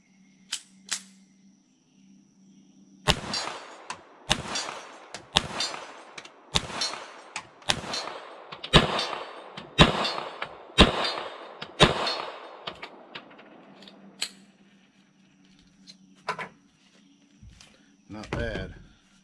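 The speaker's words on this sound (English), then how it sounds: "we just got back inside from shooting the FN model 1922" Pistol shots from an FN Model 1922 in .32 ACP ring out against a steel target about 30 yards away: a string of roughly ten sharp cracks at an uneven pace, each followed by a clang, then a few more shots after a pause.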